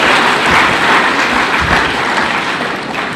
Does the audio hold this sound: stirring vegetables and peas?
no